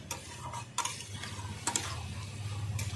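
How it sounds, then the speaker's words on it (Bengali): A lid comes off a pot of simmering ripe cucumber curry with a couple of quick metallic clinks, followed by a soft, steady bubbling sizzle, close and quiet. "ঢাকনাটা এবার উঠিয়ে নেব"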